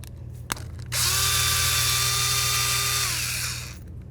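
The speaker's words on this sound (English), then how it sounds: "remove all these bolts right here so we can remove our locking hub" A power tool, likely an impact driver or drill, whirs loudly and steadily for about two and a half seconds while backing out bolts on a 1999-2007 Ford Super Duty F-250 front locking hub, after a brief click and low garage hum.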